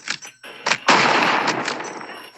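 Gunfire in the VR game Animal Company, a few quick close shots followed by a loud sustained burst that fades out, with no talking.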